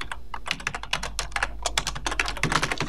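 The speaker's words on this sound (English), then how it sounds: "I can type anything in there I want." Fingers type rapidly on a computer keyboard, producing a close, dense patter of sharp key clicks over a faint steady hum.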